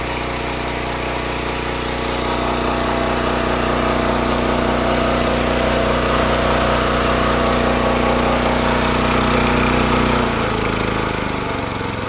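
A homemade engine on a rubber mount idles loudly and steadily for about ten seconds with a fast mechanical chug, then its pitch drops and the running roughens near the end.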